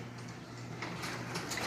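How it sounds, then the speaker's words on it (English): A newly installed garage door opening with a steady mechanical whirring and rumbling drone, moderately loud and continuous, with brief higher rattles toward the end and no talking. "Here's it opening."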